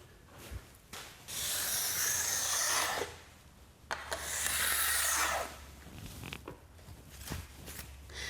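Steel file rasping along a ski's metal edge, held in a file guide, in two long steady strokes of scraping, each lasting about a second or two, close and fairly loud with no talk.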